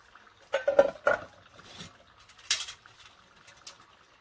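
Metal pieces of a Trangia camping stove are taken apart by hand, a few light clinks and rattles spaced irregularly, close and fairly quiet.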